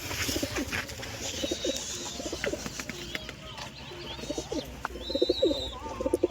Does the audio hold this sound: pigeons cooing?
yes